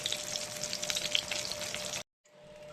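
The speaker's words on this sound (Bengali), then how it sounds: "বেগুনটা আমি ভেজে নিই" Eggplant slices fry in hot oil with a steady, dense sizzle that fills the whole clip. The sizzle drops out briefly and then returns a little softer.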